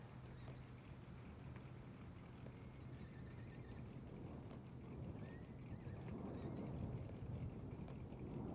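A horse in the survival video game SCUM makes continuous low hoofbeats and movement noise, fairly faint and steady, with wind-like background and no talking.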